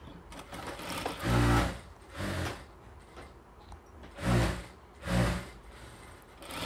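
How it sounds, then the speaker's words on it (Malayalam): Sewing machine stitching the neckline of a nightie: four separate loud whirring bursts of about half a second each, spaced irregularly, with quiet handling noise between them. "ഇതിൻ്റെ സെൻറ്ററിൽ ഇങ്ങനെ വെച്ചിട്ട് നമ്മളിതിനെ സ്റ്റിച്ച് ചെയ്ത് കൊടുക്കുകയാണ് ചെയ്യണത്"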